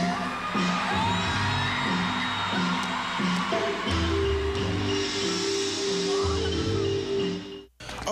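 A crowd cheers and whoops loudly at a Defense Force drill team's synchronized precision drill. The roar is continuous, with a steady rhythmic low pulse beneath it, and it cuts off briefly near the end.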